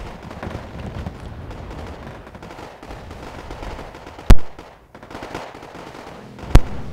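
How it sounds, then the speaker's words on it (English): Gunfire and artillery from the war strategy game Wargame AirLand Battle: a steady, dense rattle of shots broken by two loud, sharp blasts, with no voices. "Some ATGMs being shot back and forth between India."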